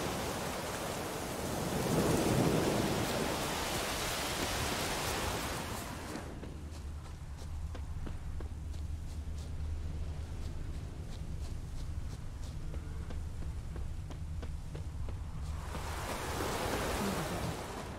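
Steady hissing rain in a video game, The Witcher 3: Wild Hunt, pours for several seconds, gives way to a quieter stretch with a low hum, then the rain's rush returns.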